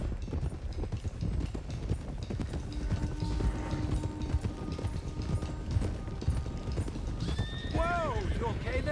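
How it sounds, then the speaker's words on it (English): Horses clip-clop at a trot in Red Dead Redemption 2 while being driven to Clemens Cove, hooves pattering steadily under talk, with a horse whinnying near the end. "let's get these horses to Clemens Cove quick"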